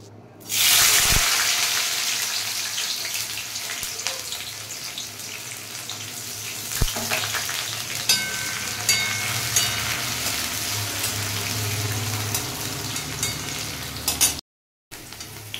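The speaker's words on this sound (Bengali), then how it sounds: "আর আমি কড়াইয়ে তেল চাপিয়েছি। এতে এই কেটে রাখা সবজিগুলো আমি একটু করে ভেজে নেব।" Chopped vegetables fry in hot oil in a kadai, a steady, loud sizzle with occasional utensil clinks that runs almost the whole time before cutting out near the end.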